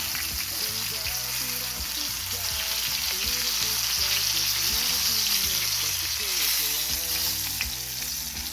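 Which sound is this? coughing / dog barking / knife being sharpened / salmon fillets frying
salmon fillets frying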